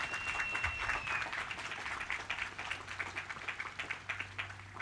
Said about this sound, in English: let's give them a nice big round of applause for their inspiring words